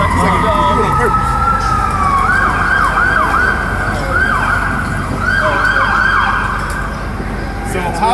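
Fire truck and police car sirens wail past on a city street, several rising and falling sweeps rolling one after another, loud and close over traffic noise and voices.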